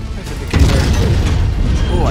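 Heavy rifles fired by a King Crab mech in Mechwarrior 5, a loud booming blast with a mechanical clank, then a rumbling tail. Brief and close.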